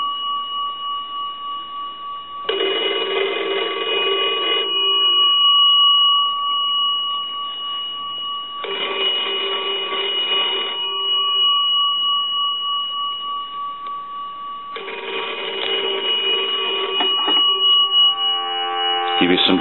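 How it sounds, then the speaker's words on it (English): A 301A fiddleback telephone's bell rings in three long bursts, each about two seconds, separated by pauses, driven by a line analyzer. A steady tone runs underneath throughout. "I'm going to go ahead and ring the telephone with the analyzer."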